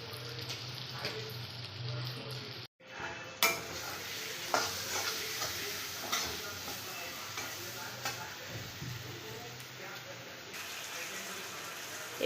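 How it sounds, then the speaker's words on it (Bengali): Ginger-garlic paste with ground cumin, chilli, turmeric and coriander frying in a wok, heard as a soft continuous sizzle with intermittent stirring scrapes and light utensil knocks, fairly quiet with a brief dropout near the start. "কড়াইতে দিয়ে দিয়েছে আদা রসুনের পেস্ট জিরের গুঁড়ো লঙ্কা গুঁড়ো হলুদ গুঁড়ো ধনের গুঁড়ো"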